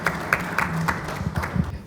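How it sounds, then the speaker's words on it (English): Brief scattered applause from an audience at an agricultural mechanisation policy workshop, with a handful of distinct claps standing out over a quiet room. "please a round of applause for Ovo"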